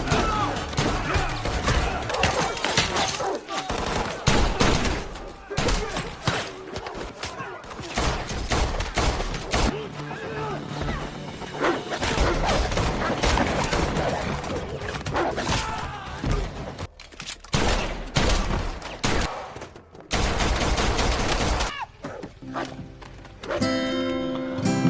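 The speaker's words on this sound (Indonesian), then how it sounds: "si Sofia pun marah dan menembak si Gerard hingga terjadilah baku tembak" Dense gunfight gunfire from the action film John Wick 3, with rapid bursts and scattered shots mixed with film effects and score, loud and busy throughout, with occasional brief pauses.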